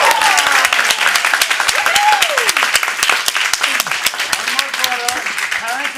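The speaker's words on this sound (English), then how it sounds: "Let's give another round of applause to all of these awesome students." Steady audience applause fills a school board of education meeting, dense continuous clapping throughout with a few voices and cheers rising over it.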